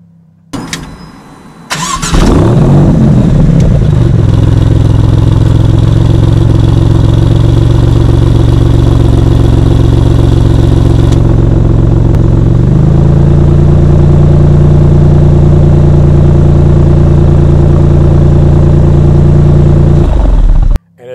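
A Maserati MC20 sports car cranks and fires up with a loud burst, then settles into a steady, deep idle. Partway through, the idle shifts to a slightly different level and holds there. No one speaks over it.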